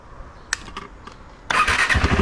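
A KTM 390 Adventure motorcycle cranks with a few brief clicks and catches, firing into a loud, close engine rumble that carries on to the end.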